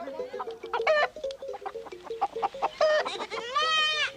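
Goats bleat in several loud, wavering calls while chickens cluck and squawk around them in a Baoulé village, the animals close and overlapping.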